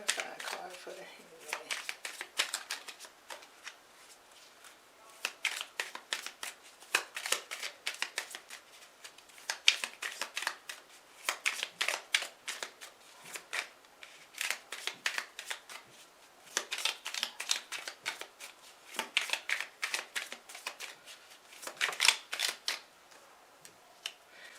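Tarot cards being shuffled by hand in repeated rapid riffling bursts, crisp and close, recurring at irregular intervals with quiet gaps between.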